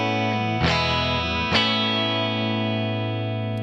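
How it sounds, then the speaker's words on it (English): A sustained electric guitar chord played on a Telecaster in the middle pickup position rings through chorus, delay and reverb effects, with two strummed attacks that shimmer and slowly decay, close and loud, with no talking. "Nice sound on that middle Tele tone, but I want to make it even brighter and shimmerier."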